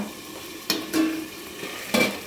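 Mutton being sautéed in a pan, quiet background sizzle punctuated by a few sharp scrapes and clinks of a spatula against the pan.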